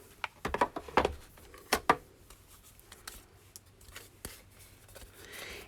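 A hand-cranked die cutting machine rolls a card-making die through, giving a quick burst of sharp clicks and ratchety snaps followed by a few scattered lighter taps, close and fairly quiet.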